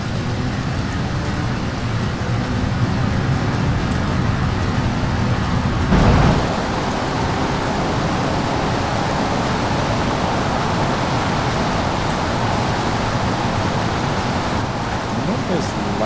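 Steady rain in the BeamNG driving game, a dense even hiss filling the whole stretch with a brief louder burst partway through, continuous and close with no voices.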